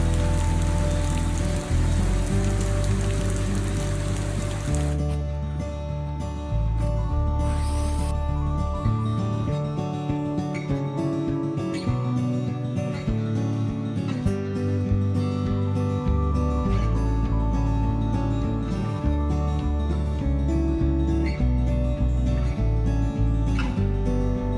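Winter rain falls on a backyard office roof freshly sheathed and covered in zip tape, a steady patter that holds at an even level throughout, with no talking.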